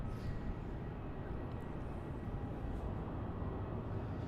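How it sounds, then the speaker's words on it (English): An Air New Zealand A320neo jet lands on runway 34 at Melbourne Airport, a steady, moderately distant low roar of engine and rushing air holding at an even level throughout with no talk. "So we have arriving on runway 34 now is that Air New Zealand A320neo."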